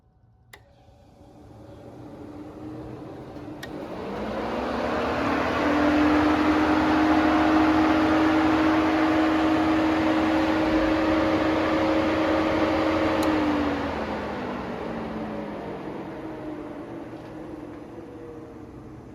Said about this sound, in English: I turned the radiator fan on high right from the screen.